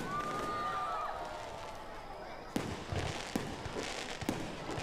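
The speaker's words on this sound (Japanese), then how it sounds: "打ち上げ花火です。" Fireworks go up with a rising whistle at an outdoor festival finale, then a series of sharp bangs and pops burst at intervals, moderately distant.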